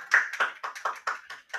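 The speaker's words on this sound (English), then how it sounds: "Little round of applause" Brief, thin applause from a small school audience at an end-of-year game show honoring runners-up, heard as a handful of close, uneven claps in quick succession.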